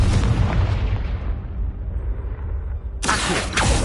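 A loud blast from the Confringo spell in Hogwarts Legacy erupts and then rumbles away over about three seconds, and a second bright burst hits sharply near the end.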